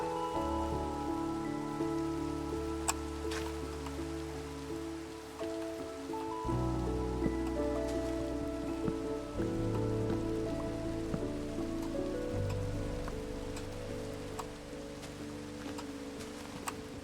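Steady rain in Minecraft, a soft continuous patter of drops falling on surfaces, heard alone over a bed of calm background music with no talk.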